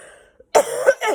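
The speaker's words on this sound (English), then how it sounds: "That was a cough." A single sharp cough from a woman, sudden and close, following a brief quiet moment, with a second smaller throat sound just after.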